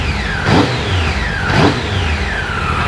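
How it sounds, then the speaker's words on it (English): A Triumph Tiger 800XC motorcycle engine under repair, with a stator-side cover gasket and one-way bearing due for replacement, revs twice in sharp blips over a steady idle. Each rise quickly falls back, loud and close with no talking. "Sounds like it's revving up like it should"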